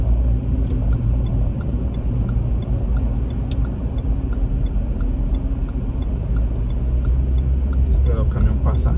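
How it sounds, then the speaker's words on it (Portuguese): Heavy traffic rumble on a busy highway in the São Paulo interior, with a truck passing close by in a steady, loud roar that fills the whole stretch, a brief higher noise near the end. "Esperar o caminhão passar aqui, né?"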